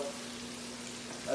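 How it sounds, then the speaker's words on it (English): Shrimp fry in a pan with steady, broadband sizzling and crackling throughout, a faint hum underneath and a slight swell of sizzle near the end, with no speech over it. "We're gonna put our shrimp in, let them cook a little bit."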